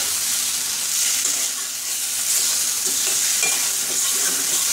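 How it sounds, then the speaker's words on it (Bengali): Spice masala sizzling and frying in a pan, a steady loud hiss with soft stirring scrapes throughout, no talking. "মশলাটা ভালোভাবে কষে একটু"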